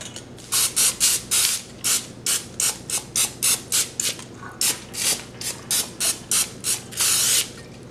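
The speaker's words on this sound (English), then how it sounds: "I'm going to spray my cooking pan." Cooking spray sprayed onto a cooking pan, about twenty short close hissing bursts in quick irregular rhythm, with a longer spray near the end and no talk.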